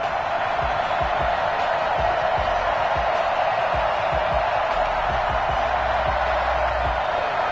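Sold-out stadium crowd in an EA Sports football game, a dense, continuous roar of cheering that stays loud and even throughout, with no pauses.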